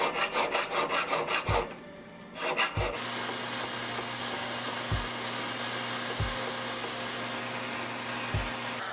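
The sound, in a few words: sanding silver flower petal with sandpaper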